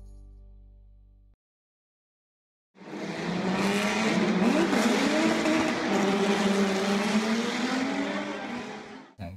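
A motorized LEGO 9686 gearbox runs after a gear change, starting after a short silence into a steady, loud, buzzy whir with a rising and falling pitch that holds for several seconds.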